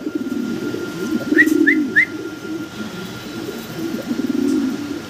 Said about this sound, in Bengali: এখানে এক জোড়া লাক্ষা, ইংলিশ লাক্ষা